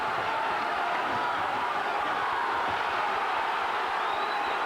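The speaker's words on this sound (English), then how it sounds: "Now the crowd are roaring in this last round" A boxing crowd roars through the last round of a fight: a dense, steady wash of cheering and shouting that holds at an even level throughout with no pauses.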